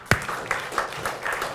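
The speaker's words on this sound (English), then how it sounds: "Give Earl a round of applause." Scattered clapping from an audience welcoming a man named Earl to the mic at a talk, a few sharp claps then a thin, uneven patter, fairly faint and brief.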